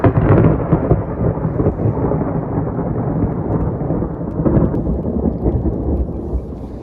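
A loud, rolling rumble of thunder during a thunderstorm fills the air, broad and sustained with a second swell midway, heard outdoors over flooded fields without talk.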